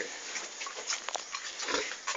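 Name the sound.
mother pig grunting in backyard piggery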